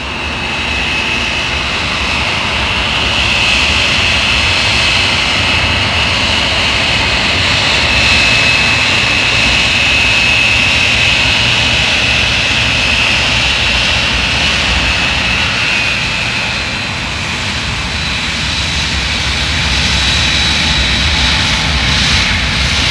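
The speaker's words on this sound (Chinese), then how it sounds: "这还有个加速起飞。" A jet aircraft accelerates for takeoff, its engines producing a loud, continuous broadband roar with a thin high whine that holds steady and swells slightly over about twenty seconds, with no voices.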